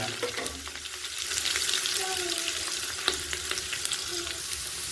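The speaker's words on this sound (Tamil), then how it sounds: "நறுக்கி வச்ச பெரிய வெங்காயம் போடுறேங்க" Chopped onions sizzle and crackle in hot oil, a steady bright frying hiss with occasional pops and stirring sounds.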